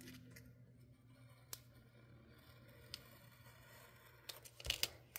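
Scissors cutting a planner sticker, quiet soft snips and paper crinkles over a low hum, with a few sharp ticks and a burst of louder crinkling near the end.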